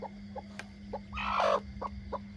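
A brooding hen clucks in short, repeated bursts as she is lifted off her eggs for candling, with one louder, drawn-out squawk in the middle over a steady low hum.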